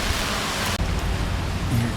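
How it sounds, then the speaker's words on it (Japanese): Rain falls on a street on Ishigaki Island, Okinawa, as a steady, loud, dense hiss of downpour with no break and no voices. "ついに来ました。 雨です。"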